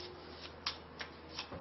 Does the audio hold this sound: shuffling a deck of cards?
yes